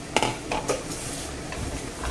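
A spoon scrapes and clinks against a pot as chorizo, pork rib and potato stew is stirred, a few sharp knocks over a soft, steady bubbling hiss.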